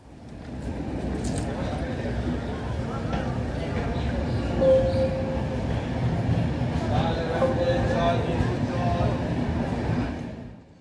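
Continuous rumbling clatter of the New Delhi–Howrah Duronto Express running on the rails, heard steadily from inside the train for about ten seconds before fading at the end.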